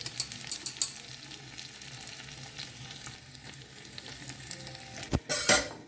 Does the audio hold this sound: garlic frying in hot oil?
yes